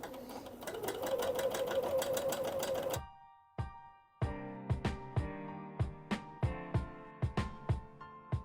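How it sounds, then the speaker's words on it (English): Sewing machine stitching a curved seam on a dress bodice, a steady fast run of stitching for about three seconds, then a series of short separate bursts as the fabric is turned around the curve. "you are sewing on a curve"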